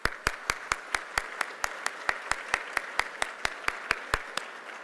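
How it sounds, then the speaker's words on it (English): Applause at an educator award ceremony comes through as a steady run of crisp, evenly spaced claps, about four or five per second, moderately close and unbroken for several seconds with no talking over it. "let's give everyone a round of applause"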